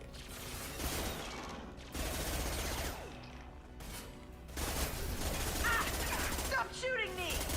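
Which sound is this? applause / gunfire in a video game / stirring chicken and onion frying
gunfire in a video game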